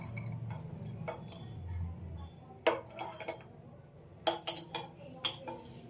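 Hot oil from a pan spooned into a jar of spices for a raw mango and garlic pickle, a few distinct clinks and taps of a spoon against glass and metal, quiet and close, with a low murmur early on.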